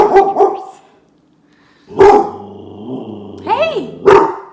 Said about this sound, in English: she's going to continue to bark, but I'm going to talk over her